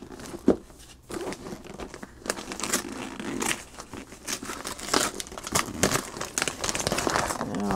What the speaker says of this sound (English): Let's open our present.